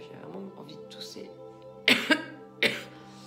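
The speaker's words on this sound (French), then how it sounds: "parce que j'ai vraiment envie de tousser." A voice is followed by two or three sharp, close coughs in quick succession.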